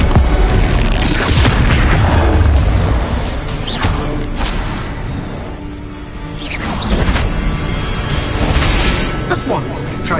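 Bombarda blast spell going off in Hogwarts Legacy, a loud booming explosion with crashing debris and whooshes, dense and continuous with swells, alongside voices in the game.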